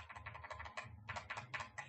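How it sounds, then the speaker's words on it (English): Quick runs of clicks from someone typing on a computer keyboard, faint and close, in two short bursts with a brief pause between them and no speech. "Let me use the keyboard."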